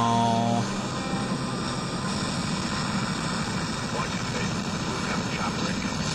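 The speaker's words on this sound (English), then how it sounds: "Oh great, another chopper." A helicopter approaches in the video game Mirror's Edge, a loud, steady droning engine and rotor rumble filling the whole stretch after a brief musical tone at the start.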